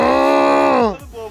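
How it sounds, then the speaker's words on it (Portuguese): A cow lets out a single loud, drawn-out moo that fades after about a second, close and alone. "A vaca, a vaca, a vaca, a vaca, a vaca!"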